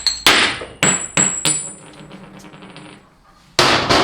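A hot metal nut from a Ford 6R140 transmission teardown drops onto a hard surface, ringing sharply and bouncing several times in quick, decaying clinks, then striking again loudly near the end.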